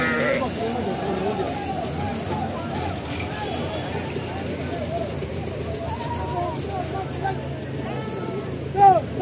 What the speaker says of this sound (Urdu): یہ دیکھیں جی بکرا منڈی، سعودیہ کی بکرا منڈی، ریاض کی سب سے بڑی بکرا منڈی